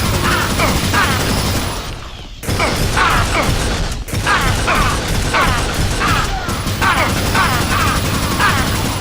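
Fast weapon fire in the Unreal Tournament pre-alpha shooter game rattles off in dense, rapid bursts with brief pauses, loud and close, with game effects layered in.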